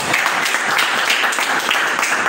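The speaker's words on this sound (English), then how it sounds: "Give yourself a round of applause and understand that." A church audience applauds, a dense, steady patter of many hands clapping at close range throughout the short moment with no talk over it.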